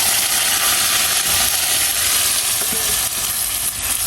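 Boiled taro greens with a hilsa fish head being stirred in a pan, a continuous hissing sizzle with faint scraping and clicking of the utensil against the pan.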